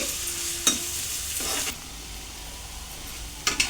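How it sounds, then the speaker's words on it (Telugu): Chopped onions frying in a pan for a Godavari-style korameenu fish curry, a steady low sizzle with a few brief stirring scrapes and clinks, fairly quiet and with no voices. "ఇప్పుడు మనం ముందుగా కట్ చేసి పెట్టుకున్న ఆనియన్స్ని వేసుకుందామండి. ఇవి బాగా ఏగనివ్వాలండి."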